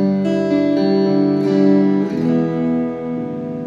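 A Taylor T5z guitar runs through two amps with heavy reverb, delay and chorus, and its strummed chords blur into a loud, washy, shimmering sustain where the rhythm is hard to follow.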